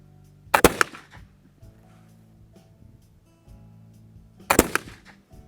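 Two sharp, loud gunshots about four seconds apart ring out from a Kibler Southern Mountain flintlock rifle loaded with homemade black powder at a range, each followed by a brief rumbling echo.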